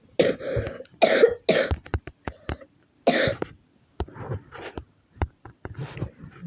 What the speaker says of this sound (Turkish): diye öksürüyorum.